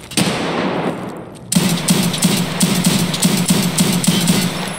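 Rapid automatic gunfire from an Escape From Tarkov PvP firefight, a short burst, a brief pause, then a sustained string of loud, evenly spaced shots that keeps going to the end.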